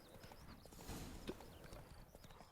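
Horse hooves gallop in rapid rhythmic clip-clop on the road in The Witcher 3: Blood and Wine, steady and fairly close under game ambience.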